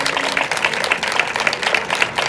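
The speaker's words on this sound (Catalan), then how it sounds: "un fort aplaudiment per l'Aleix" A school graduation audience gives loud applause for a student called up, a dense wash of many hands clapping that holds steady throughout at close range.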